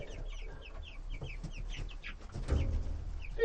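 Homestead chickens cluck softly nearby in quick, overlapping bursts, a fairly quiet flock murmuring with a low background rumble that swells slightly near the end.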